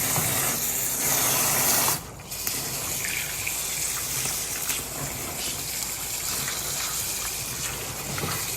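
Hot water runs and splashes steadily over rice in a colander, a continuous close hiss and trickle that dips briefly and then carries on.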